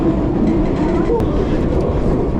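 Barcelona metro train rounding a curve, a steady loud low rumble with rail noise filling the whole stretch, with voices talking over it.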